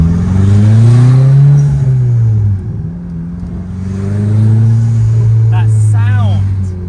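Turbocharged 1992 VW Golf GTI Mk2 engine revving from inside the car, a loud, steady low drone that rises, dips briefly and climbs again, with people talking over it.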